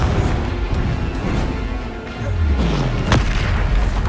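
A Confringo fire spell detonates in the Hogwarts Legacy video game, a loud deep boom with a sweeping low rumble and a sharp crack near the end, set against continuous game sound.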